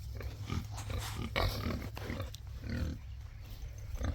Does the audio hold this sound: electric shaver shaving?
no